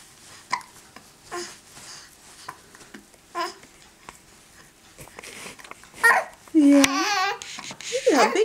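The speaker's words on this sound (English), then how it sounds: "Now you got the hiccups" A baby's hiccups come as short, sharp catches scattered among soft babbling and coos, with an adult talking gently nearby and a brief laugh-like squeal near the end.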